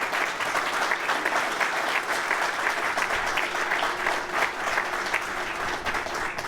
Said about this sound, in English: I think he deserves a rousing round of applause.